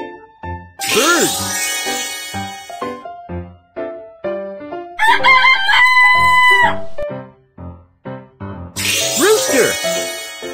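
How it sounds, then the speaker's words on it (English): A rooster crows loudly twice, once at the start and once at the end, with a jingly, chiming musical passage between the calls and no speech. "Rooster."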